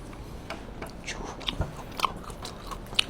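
Someone bites into and chews crunchy fried calamari head dipped in vinegar with garlic and chili, several sharp close crunches spaced irregularly over a quiet background, with no talking.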